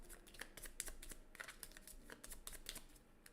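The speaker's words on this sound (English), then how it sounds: "Shuffly, shuffly, shuffle." A deck of game cards for the board game Earth shuffled by hand, a quiet, busy patter of papery flicks and riffles close by.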